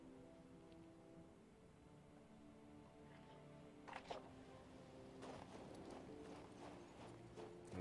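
Faint horse hoofbeats clip-clop in an irregular patter in the video game King's Bounty 2, growing busier partway through, over a quiet musical background.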